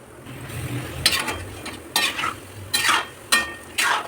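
Palm fruit fritters frying in hot oil in a home kitchen, a low steady sizzle broken by several louder bursts of bubbling and stirring at irregular intervals, close and with no talking.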